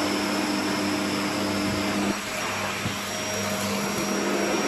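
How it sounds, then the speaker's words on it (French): A vacuum cleaner runs with a steady loud suction roar and a faint whine, briefly dipping as it pulls in material, continuous and close, with no talk. "voici un aspirateur qui se fait un rail de coke"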